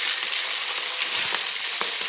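Marinated silver carp pieces frying together in hot oil give a steady, close sizzle with soft crackles and small pops throughout, no voices.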